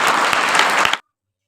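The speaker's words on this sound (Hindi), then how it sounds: "तालियां बजाएं।" Applause from an audience at a school annual function, a dense burst of many hands clapping close and fairly loud for about a second before stopping abruptly into silence.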